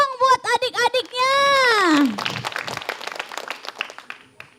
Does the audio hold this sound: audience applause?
yes